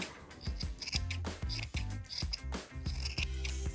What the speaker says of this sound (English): if you want to shape it a little bit more, you just take your scissors